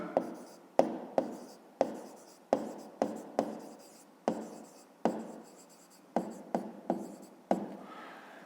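Pen writing on paper while a five-sided figure's perimeter is worked out for a grade-5 maths exercise: a steady run of close, scratchy strokes with sharp taps at the start of each word, about a dozen bursts over several seconds, with no talking.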